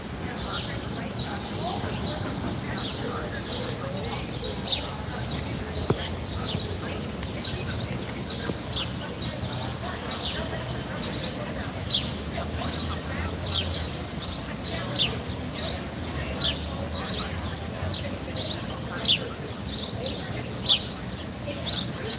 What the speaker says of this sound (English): Birds making all this noise.